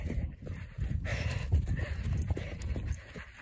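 Rapid hoofbeats of a herd of sport horses moving at speed, a dense drumming of clip-clops with rustling and breath noise, fairly close and steady throughout.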